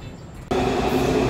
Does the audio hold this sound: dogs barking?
no